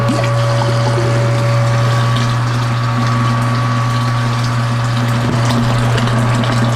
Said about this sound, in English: let's add in some more hot water